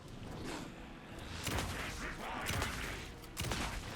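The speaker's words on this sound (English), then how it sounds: "Anderson, pin him down with gunfire for me to get the light on" Gunfire in the video game Alan Wake 2, several loud cracking shots bursting at irregular moments over a dense, noisy backdrop of game action.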